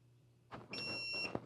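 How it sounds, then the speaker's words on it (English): An xTool heat press signals it is ready with a short electronic beep, a bright steady tone near the end of a brief stretch of faint handling noise, with a sharper click at the close. "Okay, and it beeps and it says it's ready."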